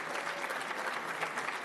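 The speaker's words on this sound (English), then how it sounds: "I was going to ask you guys to give him a round of applause, but you already did" Sustained audience applause fills a graduation ceremony hall, a dense, steady wash of clapping from a large crowd with no gaps throughout.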